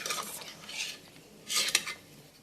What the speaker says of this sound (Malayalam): മിക്സ് ചെയ്യാം. നമുക്ക് മിക്സ് ചെയ്തെടുക്കാം.